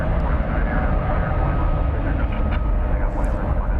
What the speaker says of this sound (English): It's American Airlines Flight 1809 with the Piedmont livery. An Airbus A321.